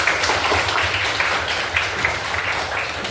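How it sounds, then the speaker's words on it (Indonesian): Students in a classroom applaud together at the end of a lesson, a continuous, fairly loud wash of many hands clapping nearby. "Tepuk tangan buat kalian semua."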